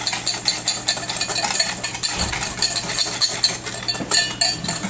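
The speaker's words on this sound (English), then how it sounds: "I'm just gonna whisk that in" Sugar, cornstarch and salt being whisked together in a bowl for a Christmas trifle, a steady busy scraping and clinking of the whisk against the bowl that continues nonstop throughout.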